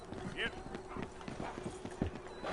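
Horse hooves clip-clopping at a steady walking rhythm, near and moderately loud, with a voice calling out over them.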